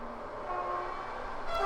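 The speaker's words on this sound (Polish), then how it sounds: "Mam nadzieję, że słyszeliście za okna ten pociąg." A train rumbles past with a faint horn-like tone, muffled as if heard through a window, and the noise swells toward the end.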